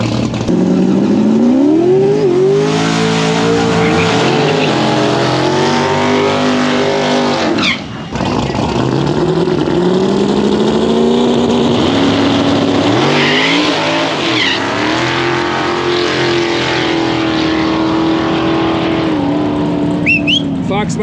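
Sparkle orange Fox body drag car at a small-track no-prep race, the engine loud and close, revving and screaming through rising pitch sweeps with tire squeal, talk mixed in underneath.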